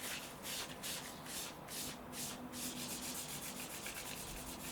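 A dirty plastic surface on an NEC S1636 graphic order terminal being scrubbed, producing a continuous close, dry rubbing hiss with rhythmic back-and-forth strokes at an even level.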